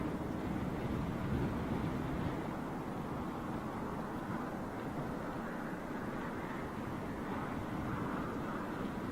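A jet aircraft departs in heavy rain, its engine roar blending with steady rainfall and wind noise into a constant broadband rumble that stays fairly distant throughout.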